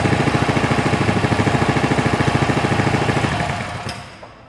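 A Coleman CT100U mini bike's small engine runs close by with a rapid, even pulsing chug, then its revs drop and it fades out near the end.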